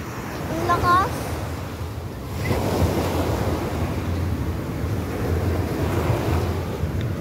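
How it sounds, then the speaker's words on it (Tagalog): Strong ocean waves break and roll at night on the shore at Bolinao, a loud continuous surf roar with wind buffeting the microphone, and a brief voice near the start. "So yan guys, ang lakas ng ocean."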